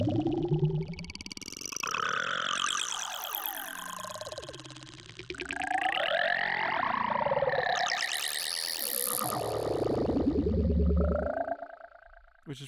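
Resampled audio in Ableton, stretched to twice its length with the warp mode set to texture, makes a smeared, granular, warbling wash of sound that swells and shifts continuously, with no speech over it.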